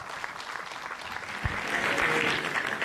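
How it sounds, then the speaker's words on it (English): A conference audience at a cooperative savings indaba in a lodge hall breaks into applause, a dense steady wash of clapping that swells louder in the second half of the brief stretch, with no talk over it. "can we also do a round of applause now?"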